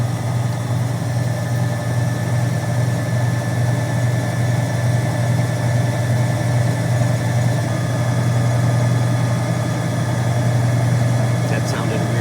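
Car engine idling steadily through an alternator test, a constant low droning hum with even vibration that holds for the whole stretch, close by and fairly loud, with no one talking over it.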